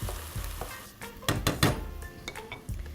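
Onion frying slowly in fat in a pan for Slovak goulash, a soft sizzle under quiet stirring scrapes and clinks of a utensil against the pan, close and faint with no talk.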